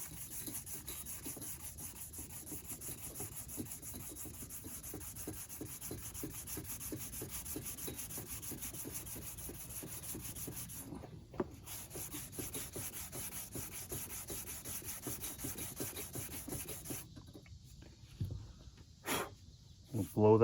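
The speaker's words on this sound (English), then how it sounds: "I'm going to sand it with a 320." Fine 320-grit sandpaper is rubbed back and forth over a custom automotive paint job, a steady rapid scratchy rhythm that continues for a long stretch before a few pauses and scuffs near the end.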